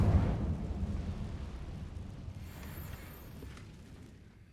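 A fire spell cast in the Hogwarts Legacy video game: a loud, rumbling whoosh of flame bursting up at the start, then a burning roar that slowly fades over a few seconds, with no talking.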